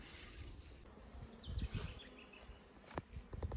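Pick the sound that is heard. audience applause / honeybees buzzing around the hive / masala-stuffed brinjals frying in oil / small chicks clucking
honeybees buzzing around the hive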